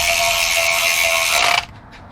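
A ratchet snugs up a lock nut on the engine bottom end of a 1955 Triumph TR2, one rapid close clicking run lasting about a second and a half before it stops abruptly.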